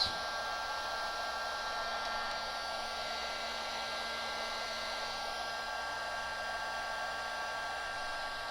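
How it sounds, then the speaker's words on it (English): A heat gun blows hot air onto the circuit board of a water-damaged 5th-generation Fire 7-inch tablet, giving a steady, close, continuous whooshing hum with a faint whine that holds at an even level throughout. "Oh, this PCB. Heat gun."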